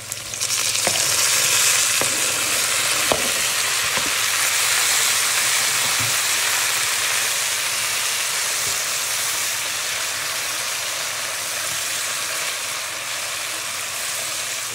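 Onions and tomato fry in a pan with a steady, dense sizzle that carries on throughout, dotted with occasional clicks and scrapes of stirring.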